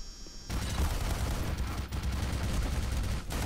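Continuous rapid turret gunfire rattles loud and dense in Black Mesa Azure Sheep, a sustained automatic stream with brief dips.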